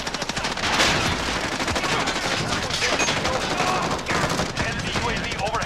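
Rapid automatic gunfire rattles almost continuously in a Modern Warfare multiplayer match, loud and close, with bursts overlapping and voices calling out over the shooting.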